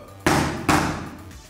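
A hammer lands two hard, loud blows about half a second apart, each leaving a bright ringing decay, close up and with no talking.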